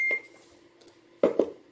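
A Voyager VR 9000 radio transceiver gives a short, clear electronic roger beep at the start, followed by a couple of brief, louder vocal-like bursts.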